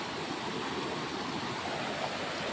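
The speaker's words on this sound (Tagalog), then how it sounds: "Ang linis-linis yung sapa oh." A clear creek flows over rocks in a steady, dense rush of water that sounds close and continuous, with no voices over it.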